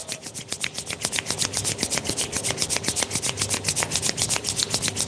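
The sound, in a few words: palms rubbing together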